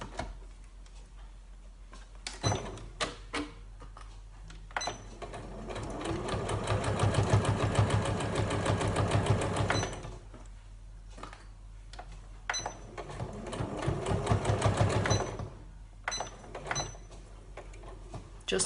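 A sewing machine stitches a padded fabric notebook cover held with pins, its fast rhythmic ticking running in two long bursts separated by pauses and a few handling clicks, close and clear.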